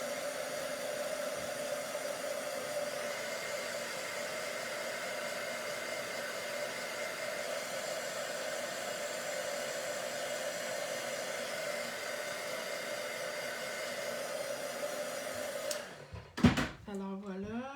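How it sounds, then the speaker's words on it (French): A hair dryer blows to dry excess ink on a watercolour paper flower, a steady, close whirring roar that runs almost the whole time before cutting off abruptly with a few handling clatters at the end. "Je vais juste faire sécher un petit peu ma fleur parce qu'il y a un petit peu trop d'encre."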